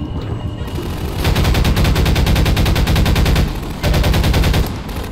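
Shooting in Half-Life 2, with loud bursts of rapid automatic gunfire against Combine soldiers. Two long rattling volleys are separated by a short pause, close and dominant.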